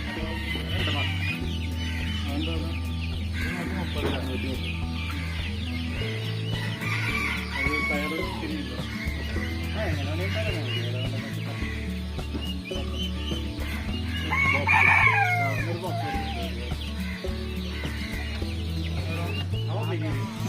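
Chickens cluck and a rooster crows amid a busy crowd at a weekly pet and poultry market in Mannuthy, Thrissur, with someone talking over the steady bustle and birds calling throughout.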